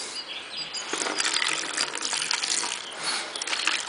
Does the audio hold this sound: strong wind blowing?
no